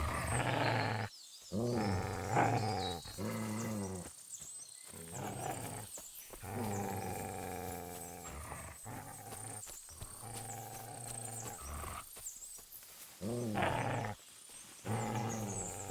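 A dog in Kingdom Come: Deliverance 2 growls and snarls in repeated rough bursts, loud and close, broken by short silent gaps.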